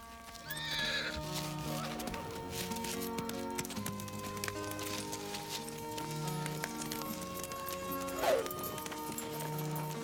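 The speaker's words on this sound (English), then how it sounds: "Get on your horses. Let's ride out of here." Horses ridden out in a western film scene, with a whinny near the start, steady clip-clop of hooves and another short neigh later, set against a sustained orchestral score that stays louder than the animals.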